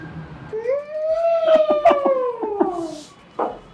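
A person imitates an elephant's trumpet with the voice, one long rising-then-falling tonal blare lasting a couple of seconds, fairly loud and close, with a few short vocal bursts at the end.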